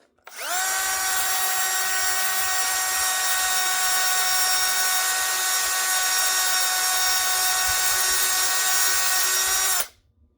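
A reamer spinning on a power tool while cutting into a very hard wooden pen blank, a loud, steady high whine that runs for about nine seconds before stopping.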